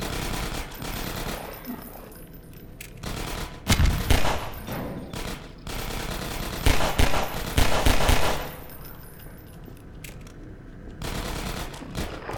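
Bursts of automatic gunfire in Half-Life 2 Episode 1, aimed at barnacles in a maze, coming in loud clusters with quieter gaps between them, with no talk.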